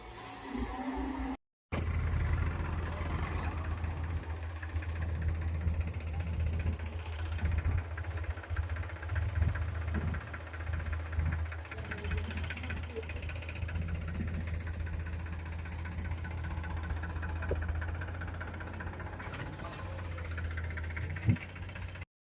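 A heavy tractor engine runs steadily at a low idle, a constant deep rumble with faint knocking and rattling throughout, while sand is loaded.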